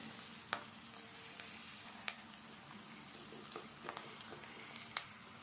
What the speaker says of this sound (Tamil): நல்லா முந்திரி பருப்பு நல்லா வதங்கட்டும்